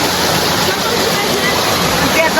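Heavy water rushes loud and steady over slippery, algae-covered rocks, a dense continuous roar right up close.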